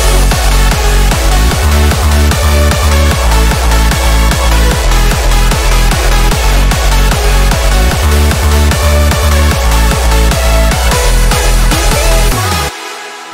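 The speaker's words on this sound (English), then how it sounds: "So this is how the drop sounds" A loud, dense electronic dance drop from a remix pounds steadily with a driving kick on every beat, layered synths filling the mix for about twelve seconds before cutting off abruptly.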